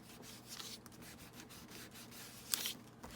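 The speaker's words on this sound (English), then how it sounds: "just dip it, and then rub it on your magazine image, and see how it's taking off the color" A solvent-dipped cloth rubbed over a glossy magazine page to lift the colour, faint soft swishing strokes in an uneven rhythm with a brief louder scrape near the end.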